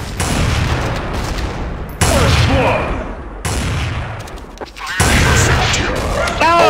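Gunfire in Counter-Strike: Source on the Awp_Dust_Temple map, with several sharp, loud shots and bursts in quick succession and clattering casings and effects between them, all close and sounding without speech.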